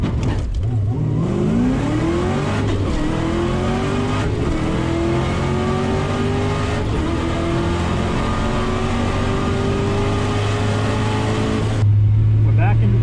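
A supercharged drag car holds on a two-step rev limiter at about 2,300 RPM, then launches, its engine note climbing loud and close for several seconds before cutting off abruptly near the end.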